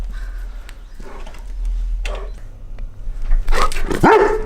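A dog barks a few times nearby, loud sharp yelps rising near the end over a low background rumble.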